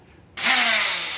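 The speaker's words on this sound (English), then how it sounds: "I think it's an oscillating tool is what it's actually called. The blade just goes back and forth really fast." An oscillating multi-tool with a blade that moves back and forth very fast starts suddenly and runs steadily, a close, loud, high buzzing whine as it trims off shims at a window extension jamb.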